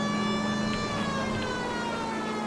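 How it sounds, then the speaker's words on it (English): In the video game L.A. Noire, a police car siren sounds as one loud, steady, continuous electronic tone with bright harmonics and no voices. "Let's put on the siren."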